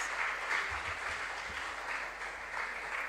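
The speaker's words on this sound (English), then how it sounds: "We can applaud them better." An audience applauding contestants at a junior science and maths quiz regional qualifier in the Ashanti Region, sustained even clapping heard from a moderate distance without pause.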